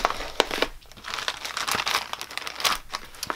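A pile of scrapbook paper being handled, crisp crinkling and rustling sheets with sharp crunchy bursts and quick shuffling, close and fairly loud without talk.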